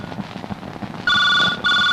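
A telephone rings loud and close, a steady electronic trill starting partway through, cutting out briefly and resuming, over a backdrop of quieter indoor murmur and movement.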